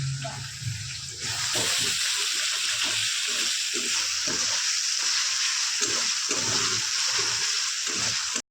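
Spices frying steadily in a pan for chicken curry, a dense continuous sizzle with faint scraping and stirring throughout, close and loud, with a brief softer stretch at the start.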